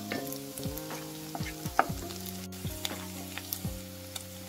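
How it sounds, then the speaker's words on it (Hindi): Chopped onions fry in a pan for dal makhani, a steady close sizzle broken by repeated scraping stirs, with no voices. "प्याज को अच्छे से फ्राई करेंगे।"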